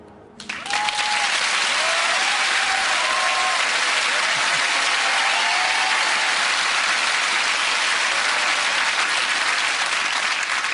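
A studio audience breaks into loud, sustained applause that starts suddenly and holds steady with dense clapping and faint cheers, with no talk over it.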